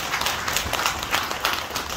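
Congregation at a Sunday Buddhist dharma service in a temple applauding, a fairly close, moderately loud patter of many hands with uneven surges, brief and busy with no clear speech.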